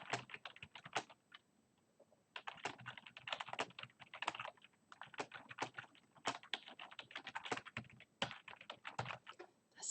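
Quick, irregular clicking of typing on a computer keyboard, heard close, with short pauses between bursts of keystrokes.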